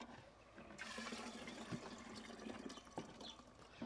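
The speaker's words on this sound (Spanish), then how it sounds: "Ahora le voy a poner la agüita donde se coció el betabel." Beet cooking water poured into a fresh homemade drink, a close, continuous splashing gush of liquid lasting a few seconds, with no talk.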